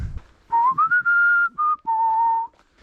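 A single person whistles a short, clear melody of several sustained notes, close and alone in quiet woods on Terceira Island.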